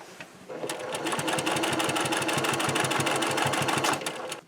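A sewing machine stitches binding onto a quilt in one loud, steady run of fast rhythmic needle thumps with a mechanical whir, starting and stopping abruptly, close up and alone.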